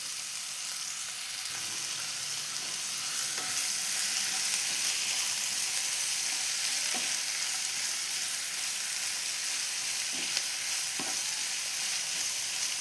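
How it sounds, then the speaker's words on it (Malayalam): Sliced onions fry in hot oil in a pan, giving a steady soft sizzle with occasional light scrapes and taps as they are stirred. "ഞാനിതിലേക്ക് സവാള ഇട്ട് കൊടുക്കുന്നുണ്ട്. നല്ലോണം ഇളക്കി കൊടുക്കാം."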